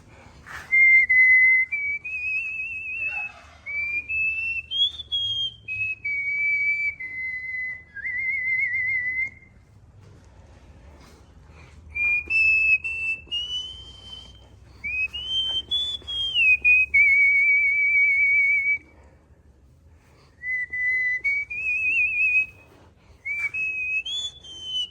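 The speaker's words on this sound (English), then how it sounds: "Let me just go ahead and whistle that song to you." A single person whistles a melody in clear, sustained, wavering notes, several phrases separated by short pauses, close and prominent over faint background noise.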